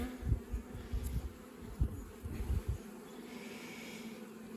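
Honeybees from a small hive with a patch of capped brood hum on the frames, a close buzzing with short louder swells over the first few seconds before settling to a steady faint drone.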